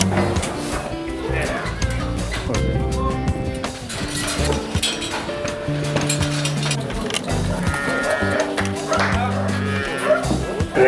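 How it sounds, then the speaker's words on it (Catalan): Dairy cows on a raw-milk farm moo repeatedly in long, loud calls, one after another, with clinking metal and a voice talking in the background. "Tinc bestiar vaca de llet."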